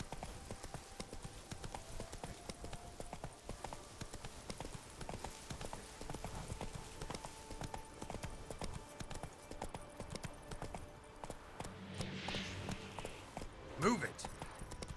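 Roach, the horse in The Witcher 3, trots with a quick, steady clip-clop of hooves, close and rhythmic, under occasional game voices.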